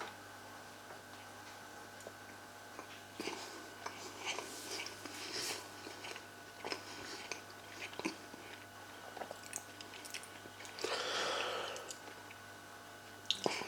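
Cheap shop-bought mince pie with thick pastry being chewed up close, soft crunchy bites and wet mouth sounds coming in irregular bursts, with a louder stretch of chewing near the end.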